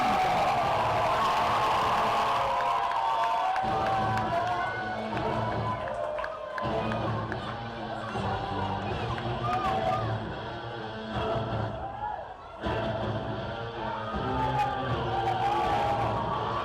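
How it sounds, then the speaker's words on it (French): A large crowd roars and cheers continuously, with clapping mixed into the loud, dense wash of noise throughout. "Faites un tonnerre d'applaudissements à Légion Capri."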